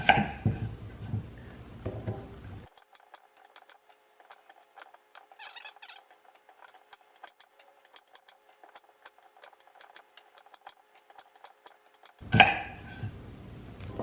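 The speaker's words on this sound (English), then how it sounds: "I'm gonna cut up the potatoes into smaller chunks this way." A knife cuts potatoes into smaller chunks on a board, giving a steady run of light, sharp chops and ticks close by, framed by brief noisy stretches at the start and end.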